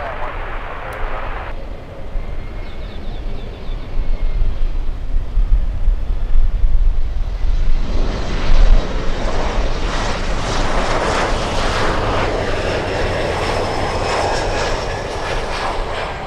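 An airliner landing on runway 12 at Miami International Airport during a storm roars loudly and steadily at close range, its broad engine noise building and holding through the clip.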